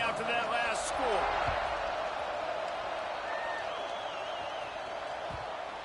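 Stadium crowd at a college football game, Texas A&M against UCLA, a steady broad roar that hums beneath commentator talk throughout, with faint whistle-like tones drifting over the din.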